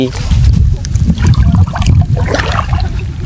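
Water sloshes and splashes continuously as someone wades into a lake beside the Barapukuria coal mine, with a voice talking over the movement through the water.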